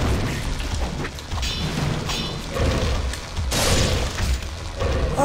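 A deep booming explosion from Ninja Gaiden Black rolls out loud and sustained, with repeated heavy thuds and crashing bursts layered through the game's busy combat noise.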